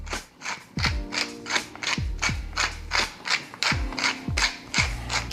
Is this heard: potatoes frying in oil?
no